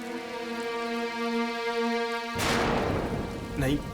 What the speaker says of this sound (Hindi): मतलब इतनी बारिश हो रही है, इतना अंधेरा है बाहर